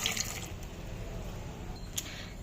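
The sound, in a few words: water poured into pressure cooker with raw mangoes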